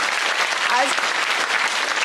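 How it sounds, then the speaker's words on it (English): Audience applause on a talk-show set, a steady dense wash of clapping at close range that fills the whole moment, with a brief voice sound faintly mixed in. "As a parent, you can clap for that."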